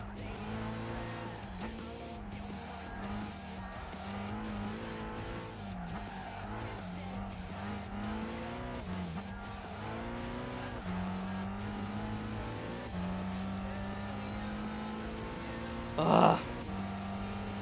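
Race car engine in Gran Turismo 5 lapping the Nürburgring, a sustained rising and falling engine drone through gear changes, with a brief sharp burst near the end, alone and steady.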